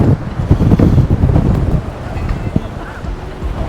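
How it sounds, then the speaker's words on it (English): Strong wind at a coastal viewpoint in Mauritius, gusting hard and buffeting the microphone with loud, continuous roaring rumble throughout. "It's very windy."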